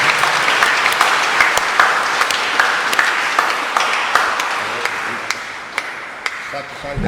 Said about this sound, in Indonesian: Kita tepuk tangan buat Pastor James.